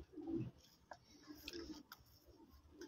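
Pipla pigeons kept on a rooftop in Faisalabad coo softly and faintly, low murmuring calls rising and falling against a quiet outdoor background with a few small ticks.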